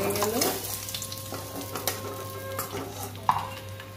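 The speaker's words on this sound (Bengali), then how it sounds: "মাছগুলো ভেজে নিচ্ছি।" Fish frying in a pan gives a steady, close sizzle with stirring scrapes and an occasional sharp clink of utensil against metal, with no voices.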